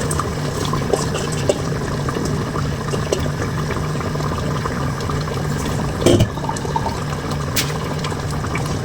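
Water and rice pour into a cooking pot of chicken and potatoes for kabsa, a steady liquid splash and hiss with a brief louder clatter near the end.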